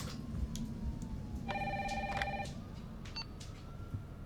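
A telephone in the Resident Evil 3 intro rings in one clear electronic burst of a couple of rapid trills over a low murmuring game ambience, followed by a faint brief beep.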